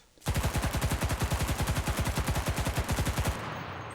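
A submachine gun fires a long, continuous full-auto burst in the Enlisted video game, about thirty rapid, loud, evenly spaced shots, then cuts off, leaving a short fading tail.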